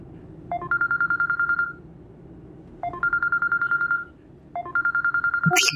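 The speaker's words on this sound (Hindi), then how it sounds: "अदील का फोन इस वक्त?" A telephone rings for an incoming call in a home, three evenly spaced electronic ring bursts, close and clear, ending with a brief bump at the end.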